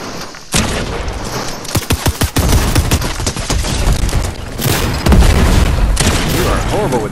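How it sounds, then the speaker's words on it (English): Explosions and rapid gunfire in a Fortnite match, loud and dense, with several sharp bursts and booming blasts that follow one another in quick succession. "You are horrible with those grenades."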